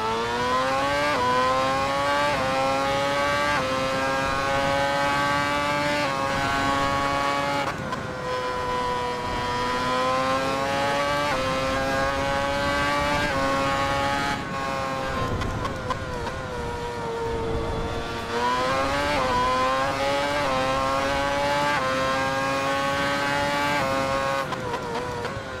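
An 800-horsepower V8 Formula One race car screams on a track, its engine note climbing steadily through the gears with brief dips at each shift, loud and continuous throughout.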